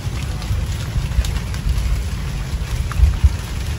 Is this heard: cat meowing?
no